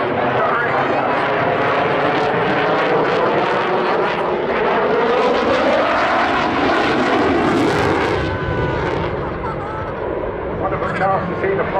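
A Eurofighter Typhoon jet roars past with reheat engaged at an airshow, coming out of a high-G turn, the loud afterburner rumble rising and sweeping by while a commentator talks over it.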